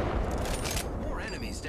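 Enemy gunfire in Apex Legends, a dense burst of rapid shots and impacts close by, loud and continuous, with a voice talking over it.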